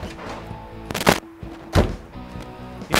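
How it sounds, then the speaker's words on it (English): A restored door on a 1970 Chevrolet Chevelle SS454 closing: two or three solid, dull thunks at close range stand out against a low, steady idling hum. "The only way you're getting that sound is to put an entire day into rebuilding that door."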